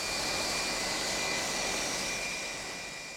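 A jet airliner landing at Dallas Love Field roars with a steady, loud, broadband engine rush that fades slightly toward the end, with no voices over it.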